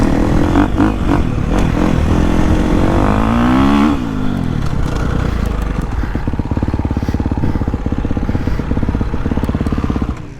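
A 2023 Gas Gas MC350 dirt bike engine revs loud and close while being ridden, with a rising rev sweep early on, then a steady, throbbing engine note.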